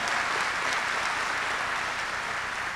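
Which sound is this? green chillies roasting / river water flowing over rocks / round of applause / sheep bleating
round of applause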